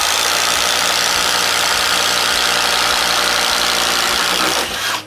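A Bosch Freak impact driver drives a 1 inch Daredevil bit, giving a loud, steady rattling roar that holds for about four and a half seconds and then cuts off.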